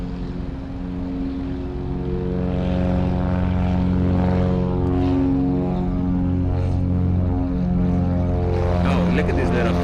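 A propeller airplane takes off at Luis Muñoz Marín International Airport (SJU), its engine droning loud and steady with a rising roar as it climbs, while people talk over it.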